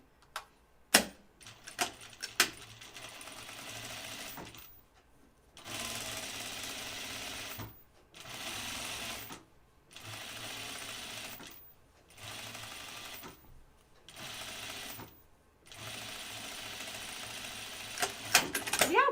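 A sewing machine stitches a seam on a Blanca flight suit in repeated bursts of about two seconds each, separated by short pauses, with faint clicks and handling sounds between runs.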